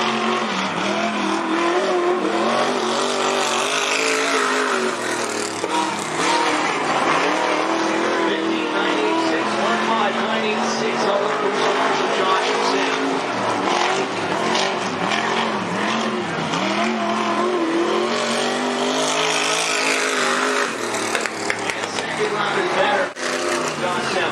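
Race cars at Cottage Grove Speedway, including Josh Sim's number 20 car, roar loudly past with engines rising and falling and tires squealing, while an announcer talks over the din throughout.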